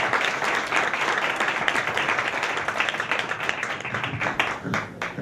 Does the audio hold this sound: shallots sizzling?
no